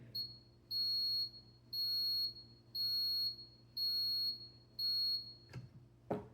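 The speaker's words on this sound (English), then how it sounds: "it will sound the startup alarm again" A roller coaster lift startup alarm in the No Limits 2 simulator: a sustained high-pitched tone sounds five times in a steady on-off rhythm over a low mechanical hum, followed by a couple of sharp clunks.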